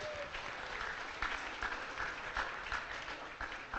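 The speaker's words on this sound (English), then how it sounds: "Please give applause for us." Seminar participants applaud together in a room, a steady, fairly quiet wash of clapping that holds evenly throughout.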